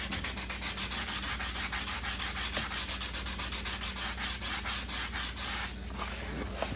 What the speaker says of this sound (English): take some sandpaper and just